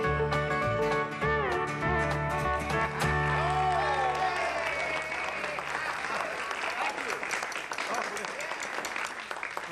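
A studio audience applauds after a country song on a television variety show, its clapping rising under the fading music and sustained tones and then carrying on as a dense, steady patter.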